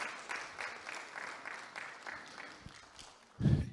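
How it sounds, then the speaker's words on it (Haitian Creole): An audience applauds the Sorel family at a 20th anniversary celebration for First Class Enterprise LLC, a short burst of clapping heard under a loud voice, with a heavy thump near the end. "Applaudissez s'il vous plaît, applaudissez famille Sorel."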